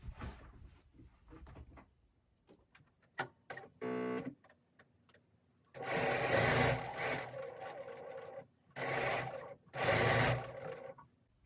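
A sewing machine stitching quilt pieces, several short bursts of fast whirring at close range with pauses and small handling clicks between them.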